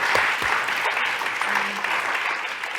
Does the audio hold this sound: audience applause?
yes